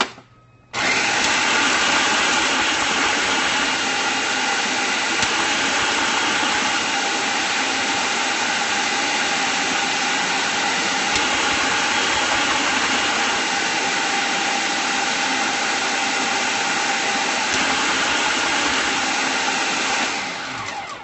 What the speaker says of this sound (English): So this is going to be kind of loud for a second, and I shake my food processor like a mad woman.